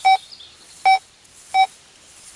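A Minelab Go Find 60 metal detector gives four short, clear electronic beeps at an even pace, each a bright tone marking a deep buried target, with quiet between them.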